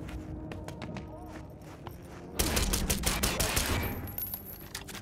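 Silenced gunfire in the video game Cyberpunk 2077: a rapid run of muffled shots and clatter over game ambience, growing denser and louder partway through.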